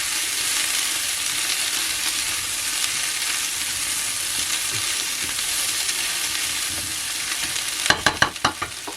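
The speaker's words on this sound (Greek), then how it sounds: "Το αφήνετε να τηγανιστεί για 2-3 λεπτά με πολύ συχνό ανακάτεμα." Cauliflower fries in a pan with paprika and garlic, giving a steady loud sizzle, and a burst of sharp scraping clatters near the end as it gets stirred.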